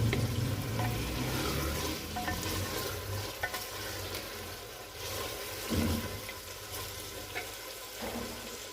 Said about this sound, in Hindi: इसका भी कलर चेंज होने तक मैं इसे ज़रा भूनूंगी।